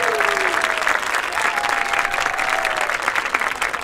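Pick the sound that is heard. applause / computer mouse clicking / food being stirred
applause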